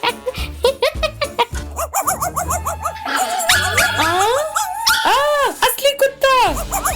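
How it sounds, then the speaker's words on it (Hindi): A robot dog toy barks and whimpers in quick, loud, close yips and yelps, overlapping with lively talking voices. "ये रोबो डॉग है।"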